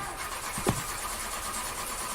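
A car engine in a video game cranks once and fails to start, giving a brief rough churn against a steady background hum. No one speaks.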